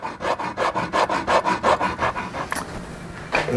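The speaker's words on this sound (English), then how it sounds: "Now I've got to spend some intimate time with some P40 sandpaper" Rapid back-and-forth sanding of a wooden steering wheel with coarse P40 sandpaper, a rhythmic scratchy rasp, close up, slowing and stopping near the end.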